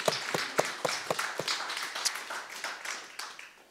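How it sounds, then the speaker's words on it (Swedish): Applause from a church congregation: sharp, separate hand claps in a quick irregular rhythm, fairly close and moderately loud, tapering slightly toward the end. "Jag tycker de är värda en applåd till dem."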